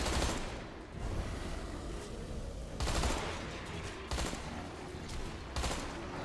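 Gunfire in the video game Deadfall Adventures: several loud bursts of shots at roughly one-second-plus intervals, each a sharp broadband crack with a trailing rumble, over a steady noisy game background with no talking.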